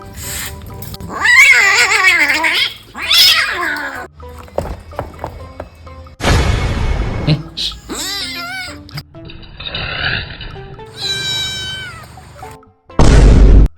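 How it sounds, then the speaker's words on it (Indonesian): A village kitten meowing repeatedly in short, loud, rising and falling cries, close by, separated by brief pauses and other household noises. "tuh si Sundul, walaupun kucing kampung, tapi bisa banget bulunya dibikin lebat kayak gini"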